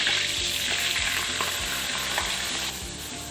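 Gram flour roasting in ghee with green cardamom in a kadai sizzles steadily up close while a spoon scrapes and stirs through it in a repeated rhythm, with no voices.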